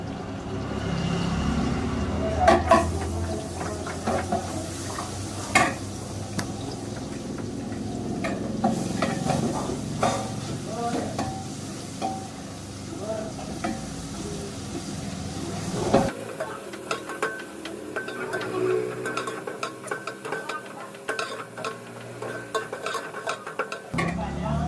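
Garlic ginger paste frying in a pan, with a steady sizzle and repeated scraping and clinking of a spoon stirring it, close up and continuing for the whole stretch, with a sharp drop in the low rumble partway through.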